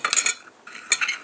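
Herbs, cilantro among them, being stirred into a pot of ramen noodles, two brief bursts of bright metallic spoon scraping and clinking with a short pause between.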